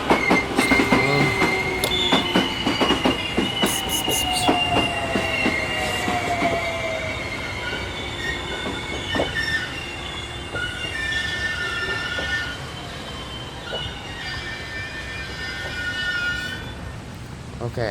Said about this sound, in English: Okay, I stopped the train.